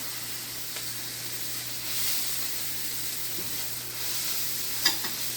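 Garlic sizzles steadily in a hot pan during siopao filling preparation, a continuous close frying hiss with a soft stir or tap near the end, no talking.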